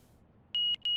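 Cockpit startup beeps in a flight simulator: three short, sharp electronic tones, the first two close together and the third after a brief gap, clear over a quiet background hum.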